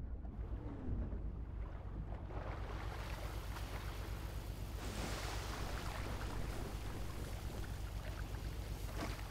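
Boat engine drone and rushing water in GTA 5, a continuous loud low rumble with wind-like noise and spray, steady for the whole stretch with no talk.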